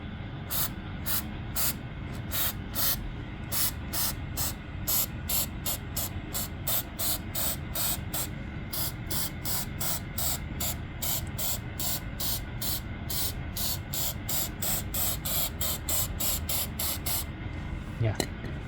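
Flex Seal rubberized sealant sprayed from a can onto a basement foundation wall, a long series of short hissing bursts in a steady rhythm, close and fairly loud.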